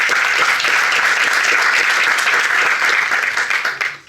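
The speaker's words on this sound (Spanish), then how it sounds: "Le damos un gran aplauso por el gran trabajo que viene haciendo año." Warm, dense applause from the audience at an event launching an indigenous identity survey, loud and even before tapering off at the end.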